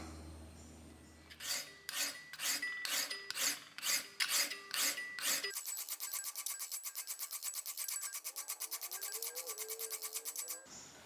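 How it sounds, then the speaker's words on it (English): Fine metal file truing the edges of a single-bevel arrow broadhead, first in about ten separate rasping strokes, then in a fast, even run of shorter strokes, close and alone. "Now I'm going to true them up with the fine file and put the Tonto point on."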